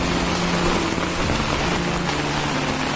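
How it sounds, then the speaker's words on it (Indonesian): Heavy rain pours down in a dense, loud, unbroken hiss under dark storm clouds, steady throughout with no voices. "Hujan kali ini semakin deras."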